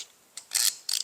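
A screw spins through a small hole while a dust collection attachment is fitted to a Dewalt 779 miter saw, giving a few brief faint ratcheting, scraping bursts close by in a quiet room.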